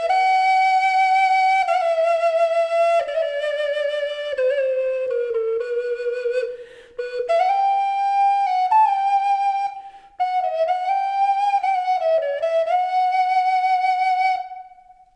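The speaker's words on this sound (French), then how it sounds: "Voici une très belle flûte réalisée dans une corne de koudou." A whistle flute made from kudu horn plays a bright, breathy melody alone, its clear notes gliding and stepping between pitches with short breaks between phrases.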